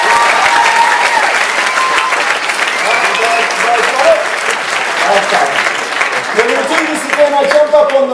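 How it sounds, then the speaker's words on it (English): Loud, continuous audience applause at a burlesque festival performance, dense clapping with crowd murmur and scattered voices mixed in throughout. "could you give them a big round of applause for coming?"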